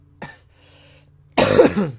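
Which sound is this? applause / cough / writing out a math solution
cough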